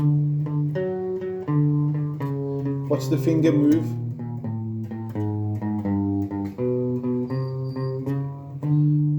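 Slow plucked guitar notes ring out one at a time in a gentle melodic line, with a short spoken remark partway through.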